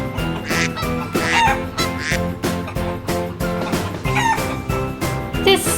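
Farm chickens and geese call together, loud honking and clucking with rooster-like cries repeating in irregular bursts close up, set over a rhythmic musical backing.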